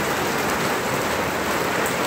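A steady, dense hiss of rain pours down onto surfaces nearby. It is even and unbroken, with no voices or other sounds.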